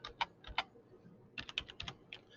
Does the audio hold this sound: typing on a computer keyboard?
yes